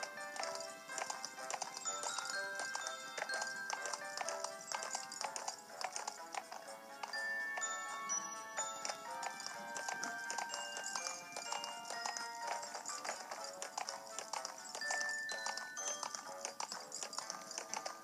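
Hooves clip-clop steadily on a horse in the Horses 3D video game, a continuous rhythmic trotting with occasional whinnies and game chimes over a quiet background.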